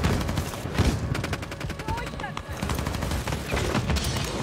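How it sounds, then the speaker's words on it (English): Rapid automatic gunfire from the MTZ-556 rifle in Call of Duty Modern Warfare 3 multiplayer, a dense stream of close, loud shots with sporadic bursts and game voice chatter mixed underneath. "Taking effective fire!"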